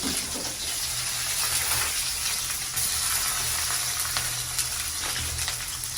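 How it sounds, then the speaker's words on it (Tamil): Oil sizzles in a pan while frying for a home-cooked meal, a steady, close, hissing crackle that continues throughout with no talk. "எண்ணெய் பொறிக்கட்டும்"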